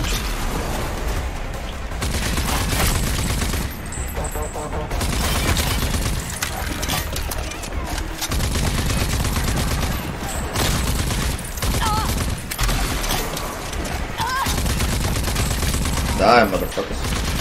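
Dense, sustained gunfire from the video game Rage 2, rapid bursts and volleys running almost continuously at close range, layered with explosive booms and game effects.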